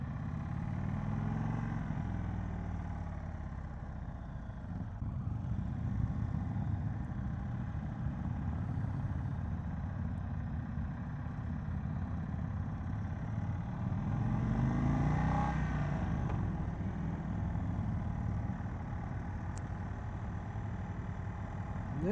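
Engine of a 2022 Indian Chief Bobber motorcycle with mini ape handlebars, a steady, moderately loud rumble while the bike is ridden along the road, swelling slightly about two-thirds of the way through, with wind noise and no clear talking.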